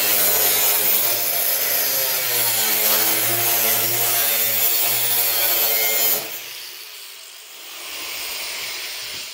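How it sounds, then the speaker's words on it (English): An angle grinder cuts through the rusty steel of a car trunk lid during a repair, giving a loud, close, continuous whine that stops abruptly around two thirds of the way through, leaving quieter background noise. "I'm going to go ahead now, take the grinder, and cut these off here"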